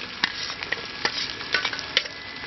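Onion and green chili fry with goat blood and intestine in a pan, a dense close sizzle broken by repeated quick scraping stirs at an irregular rhythm, with no voices.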